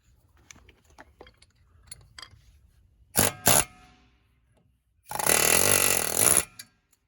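A chisel scrapes flaking rust off the rear brakes of a Mazda 5, heard as two short, sharp scraping bursts followed by a longer, louder sustained scrape, with faint clicks and rustling before them.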